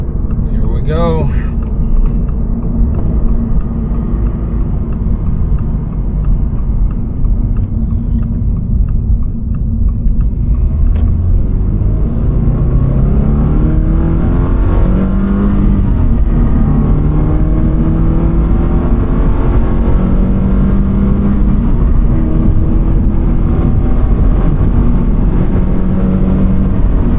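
A modified Toyota GR86 sports car engine drones loudly as it accelerates, the pitch climbing through gear changes over a heavy exhaust rumble, with talking over it.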